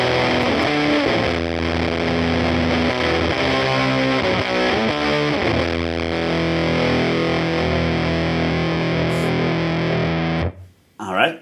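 An electric guitar plays through a Woodrow amp plugin on the EP3 setting, giving a continuous, heavily distorted tone of sustained chords and notes that cuts off near the end.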